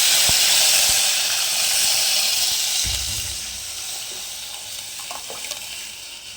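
Spiced buttermilk mixed with turmeric and masala pours into hot tempering for Marathi kadhi, giving a steady liquid rush and hiss that softens midway, with a brief low splash and faint clinks near the end.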